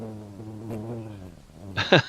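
Bee buzzing in the video game Dwarf Fortress, a steady droning hum that wavers in pitch for about two seconds, then a brief sharper burst at the end.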